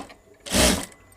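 A sewing machine stitching a blouse gives one short, dense mechanical whir of under half a second, close by, with quiet room sound before and after.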